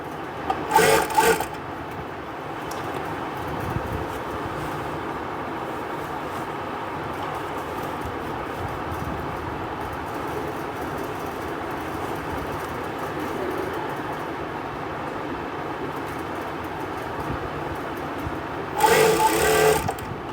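A sewing machine stitches a women's party wear dress, running steadily and evenly at close range for the whole stretch, with brief louder bursts near the start and again near the end.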